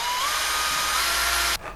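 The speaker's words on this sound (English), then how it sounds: "I'm gonna drill like a really small hole" A power drill bores a small hole in a piece of wood while building a stand for a baby camera, whining steadily up close at high speed before cutting off abruptly.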